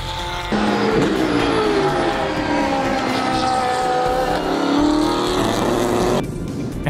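GT race cars, including a Lamborghini Gallardo, roar past at the Vallelunga 6 Hours of Rome in 2013, loud engines rising and falling in pitch as they pass close by, with a brief tire squeal.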